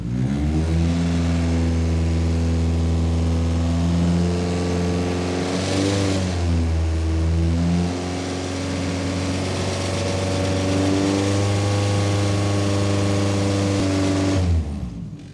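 A car engine revs steadily around 3,000 RPM during a noise-level test, a loud continuous drone with a brief dip in pitch midway before it climbs back and holds, then cuts off near the end.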